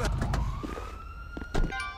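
Ambulance siren in the video game GTA 5, a rising wail sweeping upward across the clip amid busy game street noise and brief voice bursts.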